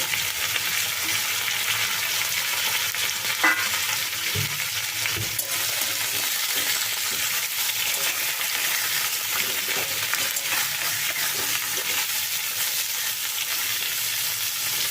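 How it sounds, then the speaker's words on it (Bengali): Steady, close frying hiss of young jackfruit in a pan fills the whole stretch, with a couple of faint knocks from stirring partway through; no one speaks. "এর সাথে সামান্য একটু ভাজা ভাজা করে নেব"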